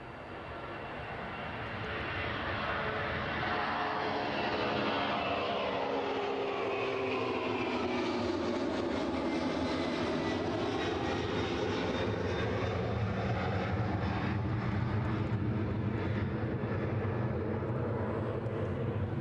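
A WestJet jet airliner at Edinburgh Airport swells from quieter to a broad, loud engine roar whose pitch sweeps as it passes, holding strong and steady for a long stretch.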